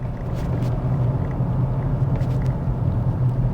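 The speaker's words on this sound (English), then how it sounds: "we're just driving up suburban streets" A car rolls up suburban streets near Castlemaine, a steady low interior rumble of engine and tyres that is moderately loud and continuous, with no other sounds breaking through.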